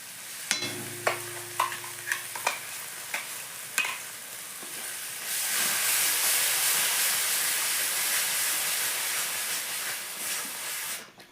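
Blended spice paste for dhaba-style chicken makhani goes into hot oil: a few scraping stir taps at first, then a loud, steady sizzle that swells and holds close to the end.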